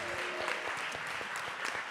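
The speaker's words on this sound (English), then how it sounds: "Give them a round of applause" A live audience at a full moon ceremony applauds, with dense, even clapping that carries steadily through the short stretch.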